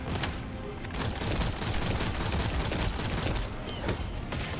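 Gunfire in the shooter game The First Descendant, a dense and continuous rattle of rapid shots and booms that holds steady for the whole stretch, loud and close, with no voices.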